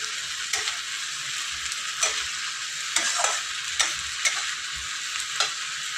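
Potatoes with chilli powder stir-fry in an oily pan, a steady close hiss of frying broken by regular scrapes and knocks of a spatula against the pan.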